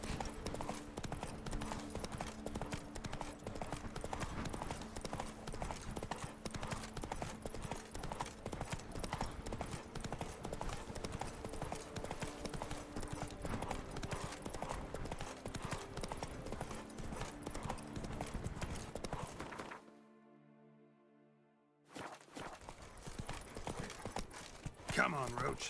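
Roach the horse trots along in The Witcher 3, her hooves clip-clopping in a steady rhythm over faint game music, then briefly cut out before resuming near the end.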